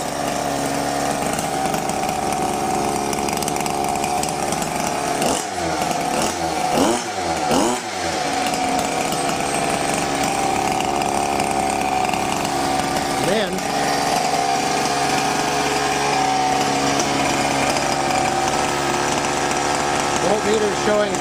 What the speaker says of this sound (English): And then insert the power starter into the hole and then squeeze the trigger.